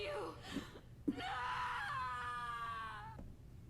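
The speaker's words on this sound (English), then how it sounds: "certainly a more realistic scream than the one that the original version had" A drawn-out, wavering human scream from the video game Castlevania: Symphony of the Night, sustained for about two seconds after a couple of short grunts, clear and alone.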